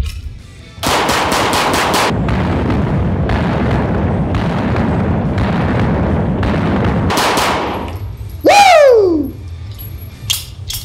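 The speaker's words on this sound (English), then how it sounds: "I'm gonna throw this back up and we'll just dump a mag so we can see how this gun runs in recoil at speed." A Beretta 92 Elite pistol empties a full magazine in rapid fire, a loud close string of sharp shots, followed by a ringing metallic clatter.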